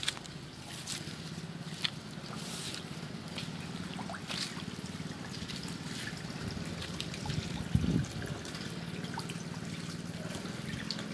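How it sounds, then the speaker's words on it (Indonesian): Water being filled from a river into a catfish pond, a steady broadband trickling and rushing flow with a low rumbling undertone, continuous and fairly near, with one brief louder splash partway through and no talk. "Sekarang lagi pengisian air."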